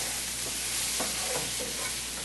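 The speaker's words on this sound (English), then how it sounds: "Keep stirring those onions." Onions are sautéed and stirred in a pan for ratatouille, giving a continuous close sizzle with a few soft scrapes of the spoon, and no talking.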